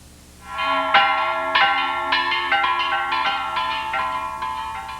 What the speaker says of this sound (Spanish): Los niños suben a la torre de la iglesia y tocan con júbilo las campanas.